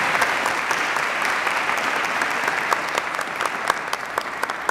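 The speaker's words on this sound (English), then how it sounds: "Please give her a round of applause." A commencement crowd in a university chapel applauds, a dense continuous roar of many hands clapping, steady and full, with individual sharp claps popping out near the listener.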